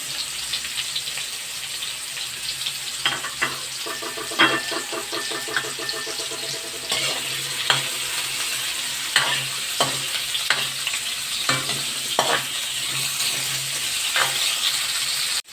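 Chicken frying in a pan for a home-style chicken curry, a steady close sizzle and crackle with scattered scrapes and clinks of stirring, no talking.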